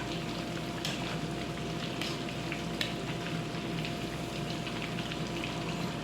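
Steady, dense sizzling of shrimp frying in hot oil in a pan, continuous and close, with a few faint clinks of utensils.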